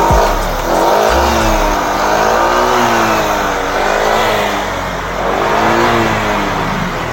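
A car engine runs close and loud after being started, its note rising and falling as it revs repeatedly over a steady idle rumble, with no talking.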